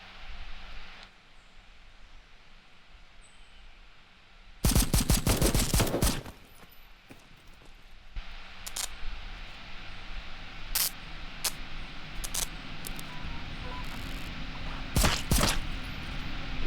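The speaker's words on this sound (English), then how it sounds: "Sounds like someone is hunting boars." Two loud bursts of rapid gunfire in the video game Kinki Spiritual Affairs Bureau break a quiet, hissy background, with a few scattered single shots in between and no voices.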